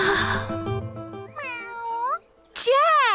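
A cartoon alien cat meows in a children's animated show, several drawn-out, pitch-bending meows with a short pause, heard clearly over a soft musical background.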